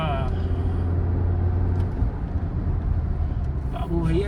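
A Tata Sierra with a 1.5 naturally aspirated engine drives on a highway in third gear, a loud steady low engine drone and road rumble heard from inside the cabin while someone talks over it.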